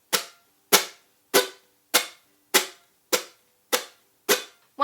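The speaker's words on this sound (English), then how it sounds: "you should just have the chuck sound" Ukulele chuck strums: eight crisp, muted percussive hits in an even, steady rhythm, each a sharp snap that dies away quickly, fairly soft and close, with no voices.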